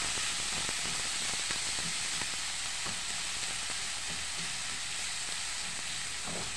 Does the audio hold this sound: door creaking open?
no